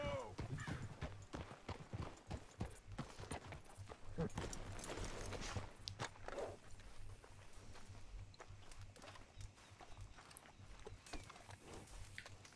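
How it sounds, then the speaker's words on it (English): Rhythmic clip-clop of horse hooves in the video game Red Dead Redemption 2, steady and moderately close, with faint speech and background sounds mixed in. "Watch that horse, Charles."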